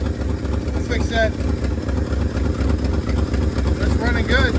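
A 1971 Ford F250 truck engine with an exhaust leak idles after sitting nine years in the trees, a close, steady rhythmic chugging with a slight pulsing lope, while a person nearby talks over it.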